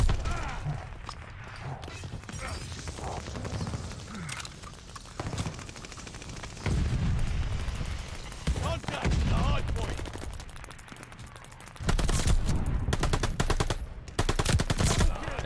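MP40 submachine gun from Call of Duty Vanguard firing in loud, rapid automatic bursts, several separate strings of shots with short pauses between them, close and dominant over game background noise.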